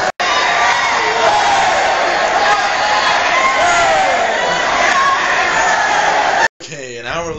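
A large football stadium crowd cheers loudly after a Buccaneers vs Falcons game, a dense roar of shouts and whoops that holds steady, then cuts out abruptly near the end before a brief voice.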